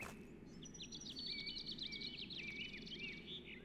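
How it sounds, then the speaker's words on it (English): Small birds chirp and warble in a Unity-built MMORPG video game, a string of thin, quick tweets over a low, steady ambient bed, soft and somewhat distant. "So here, for example, there are bird sounds"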